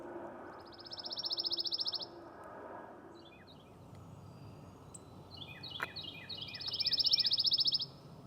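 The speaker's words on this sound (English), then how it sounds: "here are some bird videos of the pine warbler singing" A pine warbler sings alone outdoors: two bright buzzy trills, one early and one near the end, with a few shorter chirps in between.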